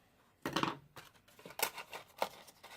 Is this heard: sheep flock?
no